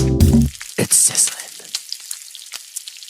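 A short sizzling sound effect hisses briefly and crackles under spoken talk on a radio show, fading quickly.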